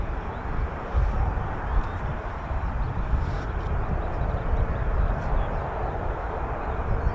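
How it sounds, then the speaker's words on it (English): A flight of four Spanish Air Force EF-18 Hornet jets taxis at RAF Marham, producing a dense, steady rumbling roar that holds at a fairly loud level throughout. "So they are taxiing."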